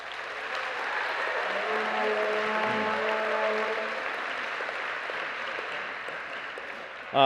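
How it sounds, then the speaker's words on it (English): Steady, sustained clapping from a large crowd at a college homecoming pep rally, with an amplified voice faintly over it and a sudden burst of sound right at the end. "let's give them a round of applause"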